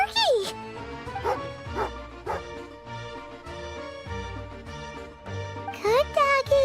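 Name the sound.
dog barking in a video game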